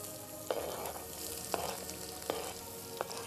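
A hot pan fries steadily for molokhia, a constant close sizzle broken by four evenly spaced scraping stirs.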